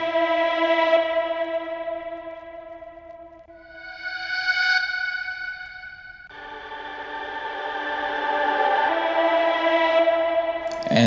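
Short sung vocal accent sample, a sustained harmonic voice phrase in three swells, heavily soaked in reverb with echo and chorus-like effects, loud and alone with no talking.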